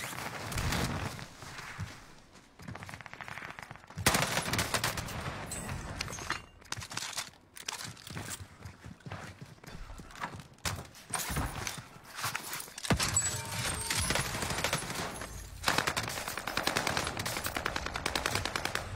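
Rapid bursts of automatic gunfire from a video game shooting match, sustained and loud with short pauses between volleys and faint footstep-like clatter underneath; no one speaks.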